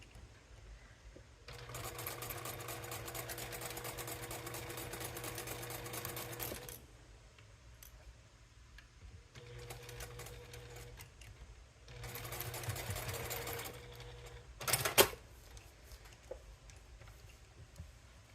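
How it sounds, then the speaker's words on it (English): A sewing machine stitches quilt fabric in bursts: a long steady run, a pause, then shorter runs, with a brief sharp clatter between them, close and fairly quiet. "I just want to sew something and not waste all this thread."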